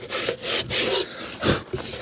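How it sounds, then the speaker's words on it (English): Sandpaper rubs back and forth over a wooden guitar template in several short scraping strokes, close and fairly loud, with brief pauses between passes and no voices. "Just gonna use a little bit of this sandpaper to do that."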